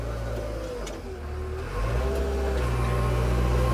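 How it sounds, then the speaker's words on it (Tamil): A JCB backhoe loader's diesel engine drones steadily while the machine drives in reverse, a close, loud low rumble that rises slightly in the second half, with no talk. "First time ஓட்டிருக்கேன் ஜேசிபியை."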